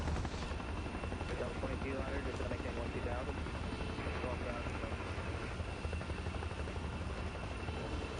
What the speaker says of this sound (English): Look at the turbines. The turbines are shooting out flames.